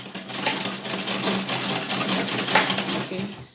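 A sewing machine runs steadily and loudly up close, its rapid needle chatter continuous as it stitches a fitted male native trouser.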